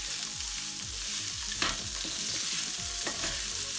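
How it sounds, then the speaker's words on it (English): Potatoes are stirred into a pan with turmeric powder and spices, with repeated scraping and shuffling strokes over a soft, constant sizzle, close up and without speech. "go in with our potatoes and just get them all in there, and then mix all of this up really nicely"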